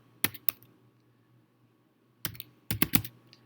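Keys click in short bursts on a computer keyboard: two quick taps, a pause, then a rapid cluster of keystrokes, close and crisp.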